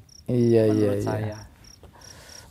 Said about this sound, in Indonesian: Nah, itu suara jangkrik.